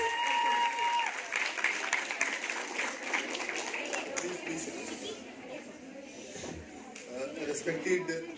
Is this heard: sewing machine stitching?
no